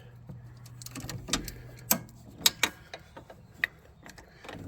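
Filter wrench with an extension fitted onto an oil filter during an oil change, giving a run of scattered metallic clicks and ratcheting clanks, several sharp taps standing out over a low steady hum.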